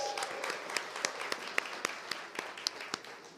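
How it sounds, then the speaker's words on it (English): Scattered applause from a small audience at a Detroit startup awards event, sparse individual claps spread through a quiet room, fairly faint and a little distant. "And next up, we got Floral Screen. A round of applause."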